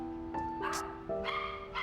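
Dogs at an adoption centre give short yips and whimpering barks, close and moderately faint, in a quick run of three or four overlapping cries.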